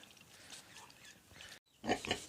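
Pigs grunt and snort close by on a village farm, with louder rough grunts near the end over a quiet farmyard background.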